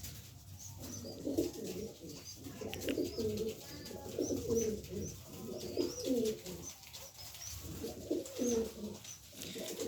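Pairs of domestic pigeons in a loft coo repeatedly in soft, rolling low phrases, close by and continuous with only brief pauses.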